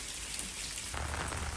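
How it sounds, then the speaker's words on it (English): Rain falling on surfaces outside a private bar in Gyeongju, a dense, even hiss of drops that swells louder partway through, with no voices. "Look how nice it is with the rain."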